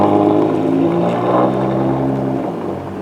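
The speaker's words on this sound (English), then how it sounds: "muffler sounds terrible" A stopped car with a loud, excessive aftermarket muffler idles nearby, giving a heavy, steady low rumble and drone that holds for the whole stretch, easing off only slightly at the end.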